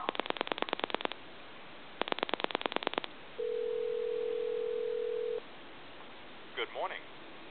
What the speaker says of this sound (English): I'm going to go ahead and plug into a regular telephone line and give you some dial tone